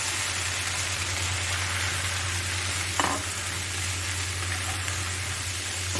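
Tomatoes fry with sautéed onions in a pan, giving a steady, loud sizzle with a low background hum and a brief stirring knock near the middle.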